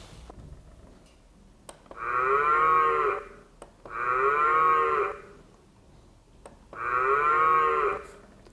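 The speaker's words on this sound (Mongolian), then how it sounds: "Үхэр," A cow lows three times in long, drawn-out bellows separated by short pauses, loud and close with no talk over the calls.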